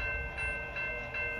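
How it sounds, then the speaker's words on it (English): A westbound Norfolk Southern manifest freight train rolls toward the Mulberry Road grade crossing, a steady loud rumble with tonal bell-like lines ringing over it in regular pulses. "We have a train coming rolling."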